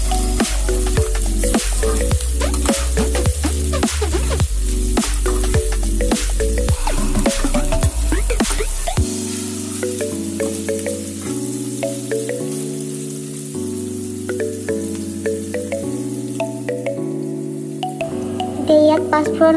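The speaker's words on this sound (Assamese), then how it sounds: "লাহে লাহে হেতাৰে লৰাই আপোনালোকে ভালকৈ ভাজি ল'ব।" Onions sizzle in a pan for dal tadka while a spatula stirs them slowly, busy crackling and scraping in the first half easing to a softer, steady hiss beneath background music.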